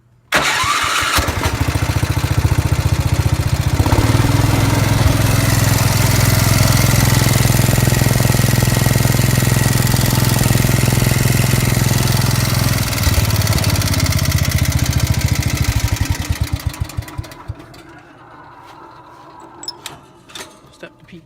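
A 1968 110 motorcycle, part of an old collection, fires up and runs loud and steady at a rough idle for about sixteen seconds before cutting out, leaving faint clicks and handling noises.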